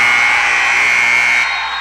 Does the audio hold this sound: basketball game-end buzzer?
yes